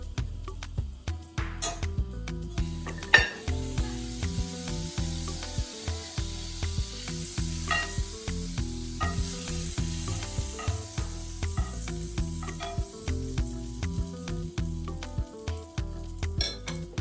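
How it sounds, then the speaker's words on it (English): Butter sizzles and crackles steadily in a cast iron pan over medium heat on a stovetop, a continuous close frying hiss with a soft, rhythmic low backing throughout. "I have my cast iron pan on the stove, medium heat, and I'll add butter"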